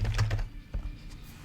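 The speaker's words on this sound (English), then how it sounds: "So I type in my business name." A business name is typed on a computer keyboard: a short run of soft, close key taps with a couple of louder presses, quiet overall.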